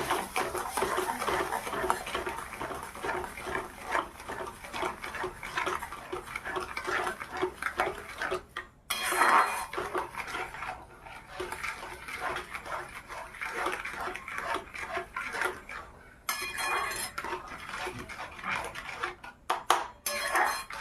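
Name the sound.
stirring mango sandesh mixture with sugar in a pan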